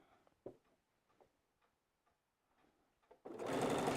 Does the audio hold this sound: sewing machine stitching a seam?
yes